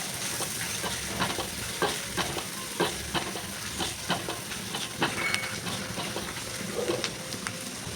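Snails fry with salt, turmeric and Kashmiri chili powder in a hot pan, giving a steady hissing sizzle and regular scraping stirs throughout.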